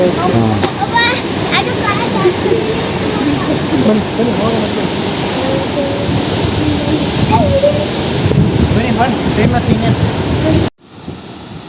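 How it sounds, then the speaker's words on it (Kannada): Water gushes with great force from the gates of Bhadra dam near Chikkamagaluru, a loud, continuous roaring rush close by, with voices talking over it before it cuts off abruptly near the end. "ನೀರು ಹೆಂಗೆ ಓದಿತ್ತಿದೆ ನೋಡಿ ಎಷ್ಟು ಫೋರ್ಸ್ ಇದೆ"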